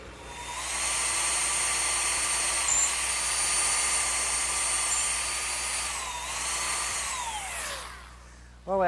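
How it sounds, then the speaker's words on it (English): A drum sander smoothing an angled cut freehand on a wooden Adirondack chair part, giving a loud steady whine that holds for several seconds, dips in pitch as the wood is pressed and then winds down. "now to smooth out this angled cut, I'm just going to do it freehand,"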